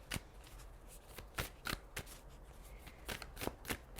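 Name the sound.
shuffling tarot cards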